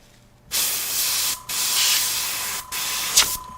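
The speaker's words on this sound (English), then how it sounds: "It's just spraying again" Spray paint hisses from a can onto the midsole of a Jordan 3 sneaker, in three close, loud bursts of several seconds each separated by brief pauses, with a short squeak near the end.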